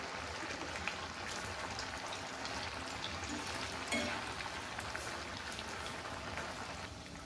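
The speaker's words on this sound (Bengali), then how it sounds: "পরিমাণ মতন এর মধ্যে আমি সাদা তেল দিয়ে এই তেলটাকে গরম করে নিয়ে এবার একে একে করে আমি এগুলো সব ভেজে নেব" Semolina snacks deep-frying in hot white oil in a wok over a medium flame, a continuous soft bubbling sizzle with faint crackles, steady and fairly quiet throughout.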